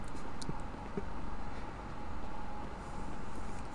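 A train riding along in GTA V roleplay gives a steady, moderate rolling rumble with slow swells in loudness and a couple of faint clicks near the start, with no voices.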